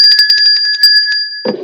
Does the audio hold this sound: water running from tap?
no